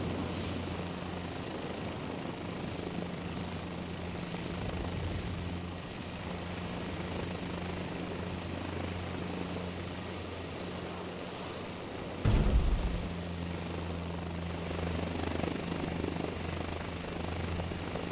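Steady helicopter rotor and turbine engine drone inside Microsoft Flight Simulator 2024, a broad continuous roar with a low hum and one brief louder bump partway through, no voices.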